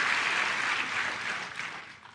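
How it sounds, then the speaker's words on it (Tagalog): Congregation at a church sermon applauding together, a steady full burst of clapping that fades gradually toward the end, heard alone without talk. "Pwede bang pumalakpak sa Diyos?"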